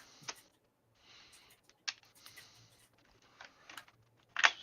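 Scattered mechanical key strikes on a small Royal Deluxe typewriter, irregular clacks and clicks with quiet gaps between them, one sharper, louder strike near the end, heard close without talk.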